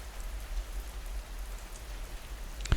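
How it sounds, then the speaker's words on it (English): Soft rain falls steadily on a thatched straw roof in the Cotswolds, a quiet, even, muffled hiss with a few faint drips and one sharper tap near the end. "The sound of the rain on the thatched roof above you is different here."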